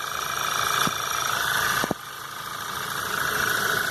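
Volkswagen Jetta TSI 2.0 engine idling evenly at close range, a steady mid-pitched hum with a couple of sharp clicks or knocks near the middle, with no voices.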